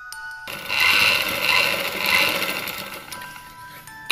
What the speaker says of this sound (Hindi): उसके बाद हम इसको घुमा के एक एक्स्ट्रा सिलाई लगा लेंगे